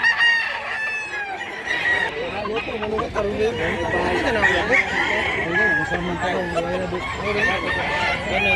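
Rooster crowing repeatedly at close range among fowl clucking at a cockfighting-bird farm in Mantalungon, Barili, Cebu, with people talking over it throughout.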